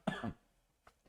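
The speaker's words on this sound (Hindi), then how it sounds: "खांसी पूरा ठीक नहीं हुआ है" Single short, close cough followed by a faint throat-clearing sound in an otherwise quiet room.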